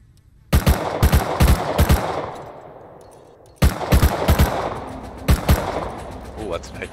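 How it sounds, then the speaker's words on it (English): An AK rifle firing incendiary rounds in the video game Rust Console Edition: two loud, close groups of rapid automatic bursts separated by a short lull. "Oh, that's an AK. Incendiary rounds."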